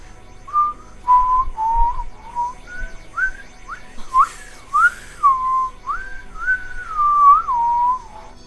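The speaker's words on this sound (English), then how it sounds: "I can't impersonate this whistle right now." A melodic whistle from the video game Kingdom Hearts: Birth By Sleep plays alone as a series of bright, sliding notes in an uneven tune with short pauses, fairly close and clear throughout.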